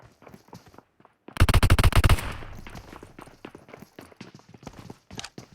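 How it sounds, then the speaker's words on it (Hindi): Rapid burst of shotgun blasts fired in the BGMI battle royale video game, loud and close, a tight cluster of booming shots lasting under a second, followed by quieter in-game footsteps and clatter. "तो मैं बिना कुछ देरी करे अपने शॉटगन से उसको ठिला देता हूँ।"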